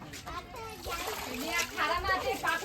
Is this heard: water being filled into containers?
yes